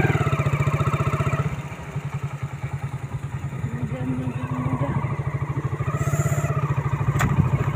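Motorcycle engine chugging at low speed while riding on a wet road in rain near Silchar, a steady close putter with rhythmic pulses, some clatter and a brief thump near the end.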